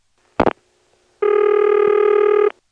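A 1977 step-by-step telephone exchange in Ramseur, North Carolina begins to ring: a short burst of relay clicks, then a steady, loud electromechanical ring tone held for over a second with no voices.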